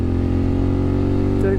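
A motorcycle engine drones steadily at close range while riding, a constant low rumble with an even tone and no pauses.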